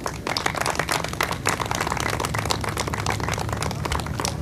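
A crowd at an outdoor park festival inauguration breaks into dense, steady applause, many hands clapping continuously and loudly with no talking over it.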